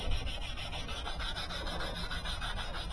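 Dry sanding the lens of a 2014 Mercedes headlight by hand, a steady rasping rub with rhythmic back-and-forth strokes, close and continuous with no talk.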